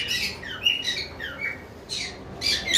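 Cockatiels at a bird farm give several sharp, scratchy squawks and chirps in irregular bursts, fairly close, with no voices.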